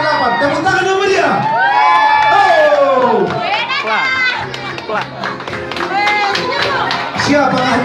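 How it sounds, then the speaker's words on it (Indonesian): A children's crowd at a church Sunday school traditional costume show claps and cheers, with excited shouts and whoops from young voices layered over loud, sustained applause. "Peserta yang ke-8, tepuk tangan yang meriah."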